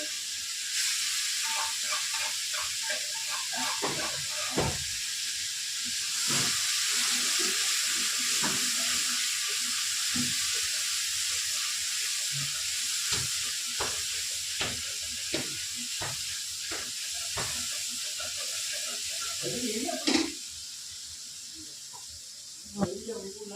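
Cauliflower sabzi cooking in a pan on a gas stove, a soft continuous sizzle and hiss with scattered stirring scrapes and clinks while someone talks over it.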